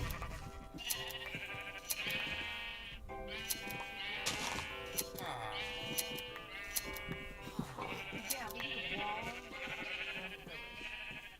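Sheep in a video game village bleat repeatedly, a string of loud, wavering bleats overlapping one another with brief gaps, set against a constant low background bed.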